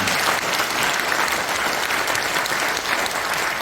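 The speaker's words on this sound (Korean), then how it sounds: "격려의 박수 한번 보내주시면 좋겠습니다." A congregation at a prayer breakfast in a National Assembly conference hall applauds steadily, a dense, even wash of many hands clapping throughout with no speech over it.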